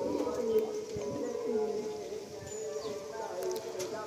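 Pigeons at a sale give soft, low repeated coos close by, while people talk over the birds and a few light knocks sound in the background.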